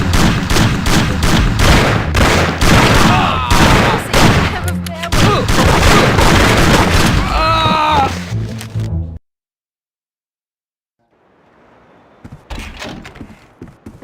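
Gunfire in the PS2 game Mafia, with rapid repeated shots in a dense burst alongside shouting voices and game sounds, then sudden silence and a few faint noises near the end.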